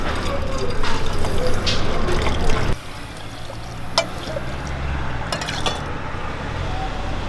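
Cooled water pours steadily into a glass bottle of homemade pineapple, carrot and gooseberry pickle, a continuous close trickle and splash that drops in level partway through, with a few faint clinks.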